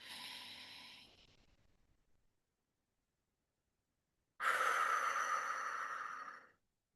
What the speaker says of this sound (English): breathing in for the count of 4, holding for the count of 7, and exhaling for the count of 8